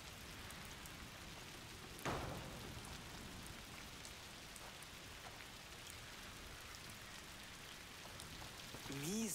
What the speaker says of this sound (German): Mieser Regen.